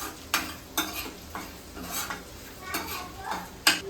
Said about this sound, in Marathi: आता आपण आहे ना अद्रक आणि लसूण बटर आणि तेलामध्ये टाकून घेतलेला आहे